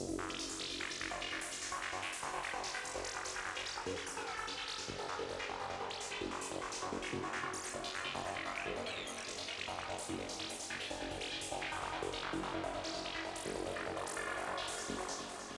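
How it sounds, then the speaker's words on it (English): A dense, sweeping synthesizer patch laden with phaser and flanger effects plays continuously at steady loudness, its bright swirling tones shifting throughout with no voices. "So you can hear we have some phaser action, we have some flanger action."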